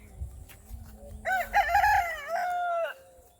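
A rooster lets out one loud, close crow that rises and holds before trailing off, with faint rustling and outdoor noise around it.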